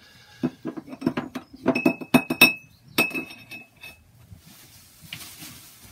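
A paintbrush is swished and tapped against a glass jar of water while being rinsed between oil painting strokes, making a quick run of bright clinks and knocks with soft watery sloshing and no speech.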